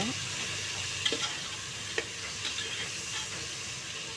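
Tomatoes and onions sautéing in a pan for paneer biryani, a steady close sizzle with a few scraping knocks as a spoon stirs them, no voices.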